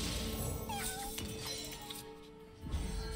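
A cat meows in the card game Legends of Runeterra, a short, faint meow over quiet game background sound with a few soft clinks.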